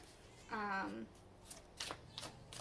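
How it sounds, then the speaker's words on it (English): Tarot cards are shuffled at a table, giving a few short riffling bursts and soft flicks, faint and close, while a voice is heard partway through. "as I shuffle,"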